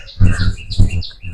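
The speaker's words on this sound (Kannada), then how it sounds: "ಅಕ್ಕಿಗಳು ಸೌಂಡು, ಕಾಗೆಗಳ ಸೌಂಡು." Birds and crows calling around an ashram in a garden setting, with repeated chirps and caws in a few bursts at close to moderate distance.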